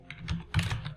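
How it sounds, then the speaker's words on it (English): Typing on a computer keyboard, two short bursts of close, crisp key clicks in quick rhythm, heard alone without speech. "You can type anything you want to type."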